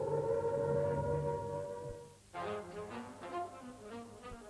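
A wartime air raid warning siren wails in a drawn-out droning tone, fades briefly, then returns with a wavering, pulsing rise and fall, moderately loud with no voices.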